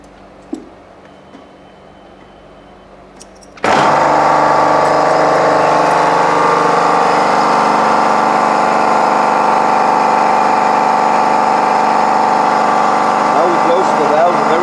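A Neptune FA industrial pressure washer starts abruptly after a few seconds of near silence, then runs at a loud, steady pumping drone with a faint ticking under it.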